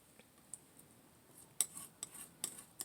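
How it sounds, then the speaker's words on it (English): A metal palette knife scrapes oil paint off a palette in a quiet room, with a few faint, sharp scraping ticks and clicks spaced irregularly. "So I'm scraping this off, scraping it off."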